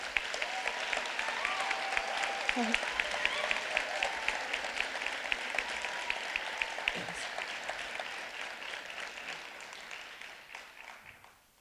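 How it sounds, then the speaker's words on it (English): An audience applauds winners at a school learning celebration event, steady clapping filling the room for about eleven seconds before tapering off at the end, with faint voices under it. "We'll give them all a round of applause."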